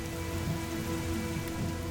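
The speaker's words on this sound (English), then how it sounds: "Some find the cold downpour irritating" A cold downpour falls over the Masai Mara Reserve in Africa as a steady, loud wash of rain that stays constant throughout, with no voices.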